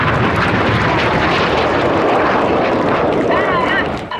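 Jet aircraft at an air show near Zhukovsky roaring loudly through head-on aerobatic passes at around 1300 km/h, a sustained broadband rush with a brief whine near the end, crowd and voices faintly underneath.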